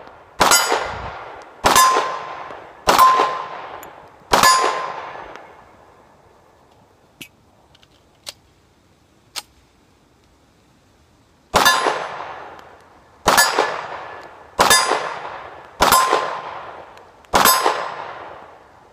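A 1911 handgun fires at steel targets on an outdoor range, each shot a sharp bang followed by a bright ringing clang. There are two bursts of four and five evenly spaced hits, loud and near, with a few faint ticks in the quiet gap between them.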